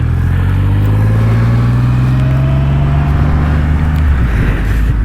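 A 2025 Triumph Rocket 3 motorcycle pulls off gently from a stop, its engine droning loud and close with a smoothly rising pitch as it moves away.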